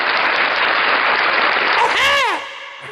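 A crowd claps and cheers loudly and steadily for a couple of seconds, then fades out under a short whooshing sound effect.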